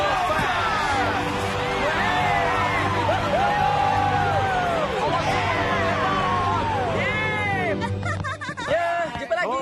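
Fans cheer and whoop together at a football event, a loud sustained crowd roar with rising shouts layered over steady chanting-like voices, fading toward the end.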